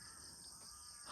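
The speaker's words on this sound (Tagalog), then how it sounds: "yung mga uwak maingay" Crows cawing faintly around a house at night, a short, distant burst of harsh calls over a quiet hiss.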